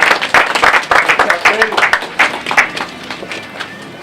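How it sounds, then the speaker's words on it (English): At a city council press conference, the audience applauds the City Council President with close, fairly loud clapping that thins out over four seconds, with voices mixed in. "Please give him a huge round of applause."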